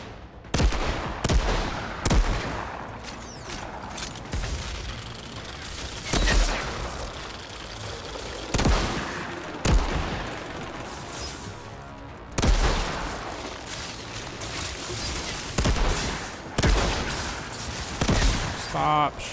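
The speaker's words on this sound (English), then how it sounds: "Stop shooting at me." Gunfire in the Outriders video game: repeated sharp bursts and booming shots at irregular intervals, loud and close, with some rapid automatic fire mixed in.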